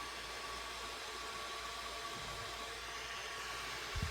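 A Jisulife Life7 mini neck fan runs at a setting, giving a steady close airy whoosh with a faint tonal whine throughout, plus a small bump near the end.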